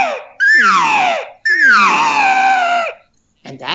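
A human voice imitates an elk cow's nasal contact buzz call, used to draw other elk toward her, in three close, loud wavering calls, two long descending buzzy notes and a short start of a third.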